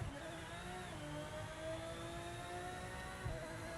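Engine revving hard at full throttle in the Project Motor Racing video game, a sustained loud, steady whine with rising harmonics and no pauses, heard alone without talk.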